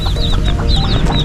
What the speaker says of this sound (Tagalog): Ito pong inahin ng manok na ito, napakatapang po.